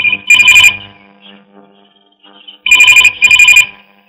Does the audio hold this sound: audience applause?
no